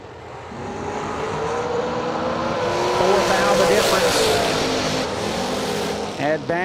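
Two drag race cars, Colin Estes in the left lane with a head start and Bobby Spence's fast car chasing, run down the strip at the RAD Torque Systems Fall Fling. A loud engine roar builds and rises in pitch, then fades, with an announcer underneath.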